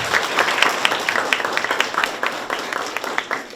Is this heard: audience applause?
yes